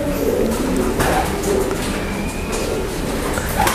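Pigeons cooing in a loft amid a dense background of bird noise, with soft repeated coos and steady rumbling ambience throughout, no talking.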